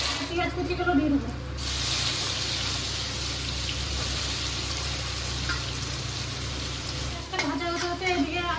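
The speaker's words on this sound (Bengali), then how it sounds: "পেঁয়াজ কুচিগুলো দিয়ে দেবো।" Chopped onions with a pinch of salt hit hot oil left from frying rohu fish, a loud steady sizzle and spatter that flares at the start and continues close up, with brief clinks at the edges.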